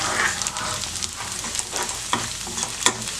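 Small onions, green chili and cumin sauté in sesame oil with a steady broadband sizzle, while a spoon stirs and scrapes the pan in several distinct strokes and taps. No one talks.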